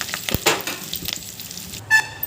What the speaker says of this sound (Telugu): వీటిని మొత్తం ఒకసారి బాగా గరిటెతో కలుపుకోండి.